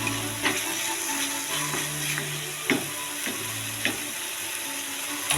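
Spice masala paste sizzling in a pan for a soya chunk curry, a steady close frying hiss with a few sharp scrapes and clinks of a spoon stirring.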